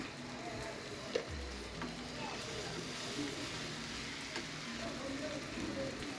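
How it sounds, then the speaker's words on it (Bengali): Onion paste mixed with turmeric, salt and chili spice fries in oil in a pan, a quiet, steady sizzle with occasional stirring clatter and faint voices in the background. "প্যানের মধ্যে তেল দিয়ে পেঁয়াজ বাটা মিক্স হলুদ লবণ মরিচ মশলা"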